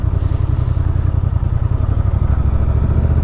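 A Honda XL750R Transalp motorcycle engine in sport mode gives a loud, close, continuous low rumble with a steady throbbing pulse, heard alone without talk.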